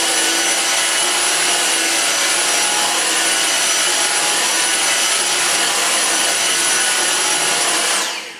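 A Dyson V6 cordless vacuum cleaner runs over carpet with a loud, steady high-pitched whine and airy roar, holding constant for about eight seconds before shutting off, no one speaking.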